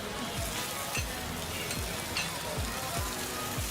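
Oysters and eggs frying at a Yunnan market street-food stall give a steady, dense sizzle and crackle of hot oil throughout, with small irregular pops and no talking.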